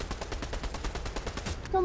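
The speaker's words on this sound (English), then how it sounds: "There's a guy shooting." Rapid automatic gunfire in the Fortnite video game, a steady string of evenly spaced shots lasting over a second and a half, with a voice cutting in at the end.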